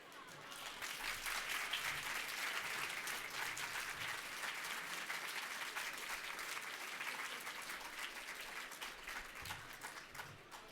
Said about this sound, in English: Let's give one more round of applause to all of our award recipients.